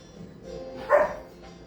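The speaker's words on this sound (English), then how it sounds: "the dogs are playing bitey face in the living room" Dogs play-fighting and barking in a living room, heard from another room: one brief muffled bark or yip rises out of low household background, fairly distant and soft.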